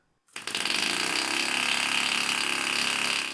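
A small air engine runs steadily after a sudden start, a loud continuous mechanical whir with a fine rapid rattle throughout.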